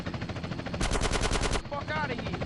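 Automatic gunfire in the GTA San Andreas mobile game during a police chase at a casino heist: a dense, loud burst of rapid shots mixed with game noise and a helicopter, with other shots before and after.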